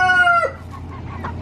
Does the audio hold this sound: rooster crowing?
yes